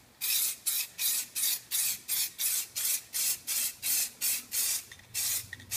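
Spray can applying Plasti Dip coating to car wheels: about a dozen short, regular hissing bursts in steady rhythm, close and fairly loud, with no talking.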